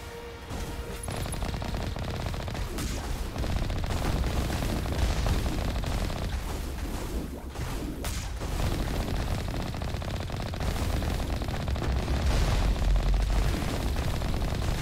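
Sustained turret gunfire rattles on in the video game Mass Effect, a dense, loud, continuous stream of shots lasting the whole stretch with only brief dips.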